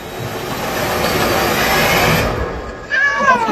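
A cat meows at night outside an abandoned kindergarten, a loud close call rising after a long stretch of steady, hissing background noise.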